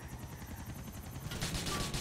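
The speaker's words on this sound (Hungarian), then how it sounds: "Ott a helikopter." Helicopter rotor in the video game GTA IV chopping steadily over game noise, the rhythmic thump continuing throughout and growing louder and brighter toward the end.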